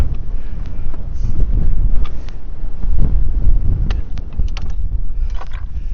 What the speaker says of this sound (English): it has gotten windy over here